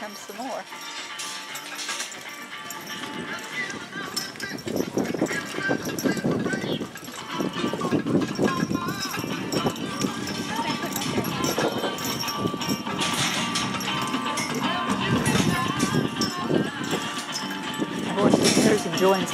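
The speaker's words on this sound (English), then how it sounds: "Lining up the horses, so here comes some more." Horse hooves clip-clop in uneven rhythm over steady outdoor bustle and chatter at a horse pull, fairly close and continuous throughout.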